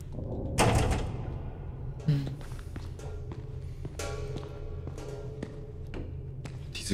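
A door in the horror video game Pine Harbor, heard as a few dull thuds and taps from the door and nearby footsteps over a low droning ambient background, with no talk.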